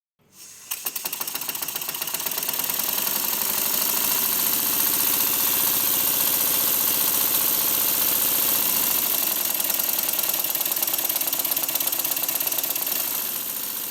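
A model steam engine driven by compressed air fed into its steam chest and lubricated with standard oil runs fast and evenly, a dense rapid mechanical chatter that starts abruptly and holds steady at close range.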